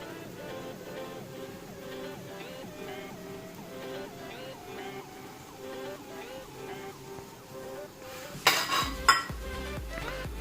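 A metal spoon scrapes and clinks rhythmically against a pot while stirring spices for a village-style chicken curry, with a louder clatter of cookware near the end; a voice talks faintly underneath.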